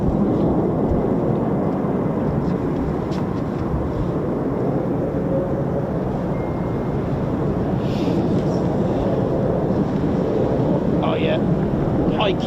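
Two F-35 fighter jets pass over RAF Lakenheath, a loud continuous low engine roar and rumble filling the air throughout, with wind buffeting the microphone.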